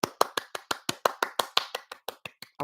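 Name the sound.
hand clapping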